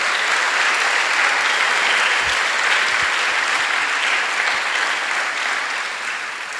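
Sustained applause from a ceremony audience at a future leaders induction and closing event, a dense steady wash of many hands clapping that fills the whole stretch and tapers slightly near the end, with no voices over it.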